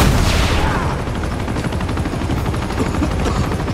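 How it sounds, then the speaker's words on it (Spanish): A helicopter fires on the player in the Uncharted 2 action game, with loud rapid bursts of gunfire rattling continuously over a rotor roar, close and dense throughout, with no talking. "ya me está disparando el helicóptero ahí"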